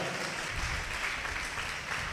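A congregation claps together during a sermon on fasting, a continuous even patter of many hands, fairly distant and soft, lasting the whole moment without voices.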